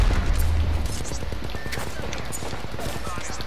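Gunfire in the video game Apex Legends: a rapid, steady stream of shots rattling for the whole stretch, loud and close, with a heavier burst at the start and faint voices over it.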